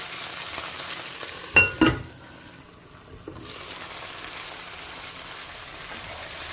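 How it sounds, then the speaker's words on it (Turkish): Steady sizzling of peppers frying in a pan, with a couple of sharp clinks from stirring near the start. "Biberlerimiz çok güzel bir şekilde kızarıyor."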